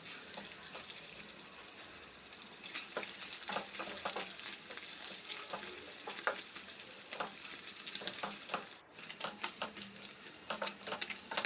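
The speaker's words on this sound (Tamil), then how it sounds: "இன்னும் கொஞ்ச நேரம் ஃப்ரை பண்ணி எடுத்துக்கலாங்க." Paneer fries in ghee or butter for a paneer capsicum dish, with a continuous crackling sizzle broken by repeated stirring and scraping sounds throughout.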